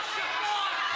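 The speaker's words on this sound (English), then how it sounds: "Oh, I hate the noise of the British crowd." Steady crowd noise from a British audience at the FF14 Fanfest, a dense, continuous wash of cheering and chatter that holds at an even level for the whole second.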